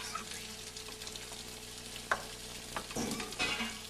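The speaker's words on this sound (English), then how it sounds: "sliced, these are baby bellas, mushrooms, Oh, don't those look good? and that's gonna simmer" Sliced baby bella mushrooms cook in a hot pan, producing a continuous soft sizzle with a few scraping and stirring knocks partway through and no voices.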